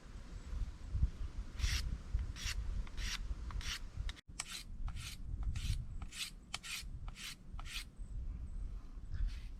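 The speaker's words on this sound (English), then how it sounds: "I'm going to try for 50 on the fine grit. I'll do 25 more on this side," A knife drawn in repeated strokes across a fine-grit sharpening stone, about a dozen evenly spaced raspy swipes, close and clear with no talking.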